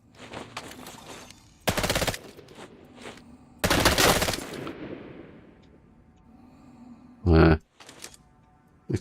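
Bursts of automatic weapon fire in the game Elite Dangerous Odyssey, several sharp rapid-fire volleys separated by quieter gaps, close and loud, with a voice talking between them.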